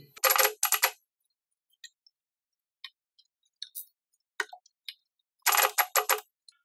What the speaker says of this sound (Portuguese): Estou fazendo aqui uma costura reta